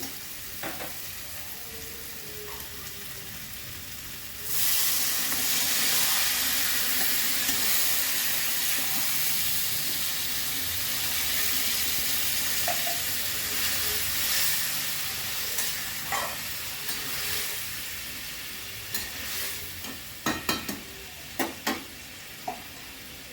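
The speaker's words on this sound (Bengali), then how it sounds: "কষানো হয়ে গেছে জল দিয়ে দিচ্ছি" Water poured into a pan of frying spiced jackfruit curry sets off a sudden loud sizzle and hiss that settles into steady frying, with stirring clinks and scrapes toward the end.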